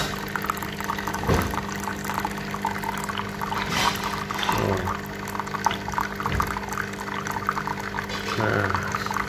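Water runs through an Excelso Unakaffe Ventura XS200 coffee machine during a cleaning cycle, a continuous pouring and trickling flow with occasional gurgling swells and some faint talk.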